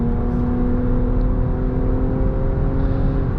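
The turbocharged VC Turbo engine of a 2024 Nissan Rogue Platinum revs steadily under acceleration on the road, a loud continuous drone with a rising whine heard from inside the cabin.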